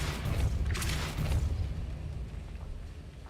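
Casting the Depulso spell in Hogwarts Legacy makes a deep, whooshing boom that swells for about a second and then fades into a low rumble, with no other sounds alongside it.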